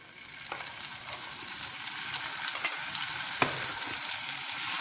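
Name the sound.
red chilli paste frying in oil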